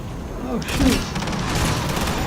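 Gunfire in the Black Ops 7 video game on the Nuketown map, a short burst of shots with a booming hit near the middle, sitting under and among a player's voice.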